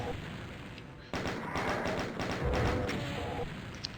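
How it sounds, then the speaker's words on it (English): A chain gun fires in the classic DOOM video game, a rapid run of close, repeated gunshots rattling over a few seconds amid other game noise. "I like to use the chain gun."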